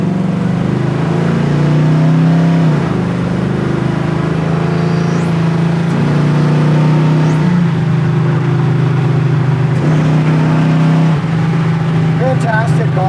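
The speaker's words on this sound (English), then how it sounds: "Hey, now I'm in overdrive." A 1967 Pontiac Firebird with a 400 engine cruises on the road in overdrive, its steady low engine drone and road rumble continuous and close throughout, with talk running over it.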